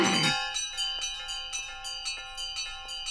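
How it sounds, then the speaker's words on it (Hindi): Bells ring in a rapid, steady series of bright metallic strikes, several per second, with lingering ringing tones, loud and close after a brief noisy burst at the start. "ये घंटियां कहाँ से बज रही है?"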